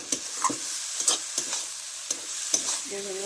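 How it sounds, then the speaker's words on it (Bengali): Spice paste frying in oil in a pan for chicken curry with green chillies, stirred repeatedly, with steady sizzling and a series of sharp spoon scrapes at irregular intervals, close and fairly loud. "নেড়ে নেড়ে নেড়ে নেড়ে এটা ভালো করে কষিয়ে নিতে হবে"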